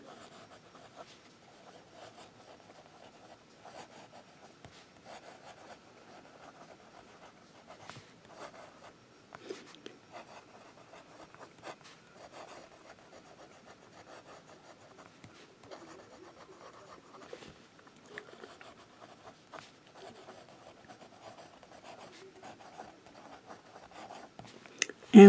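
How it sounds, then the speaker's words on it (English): Jinhao 994 fountain pen with Noodler's Eel Blue ink scratching across paper in faint, close strokes and scribbles, with brief pauses between words. "And let's do some writing."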